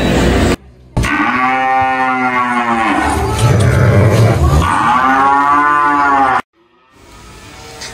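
Cattle at an Indonesian livestock dealer low loudly and close by, two long drawn-out moos running almost back to back across several seconds.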